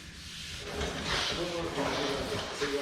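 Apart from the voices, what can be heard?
sanding out orange peel in car paint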